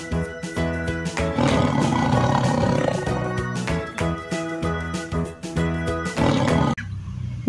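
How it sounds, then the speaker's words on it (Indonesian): A toy tiger plays a loud, continuous roaring sound effect for about seven seconds, with rhythmic pulsing bursts layered throughout, then cuts off abruptly. "ini adalah harimau."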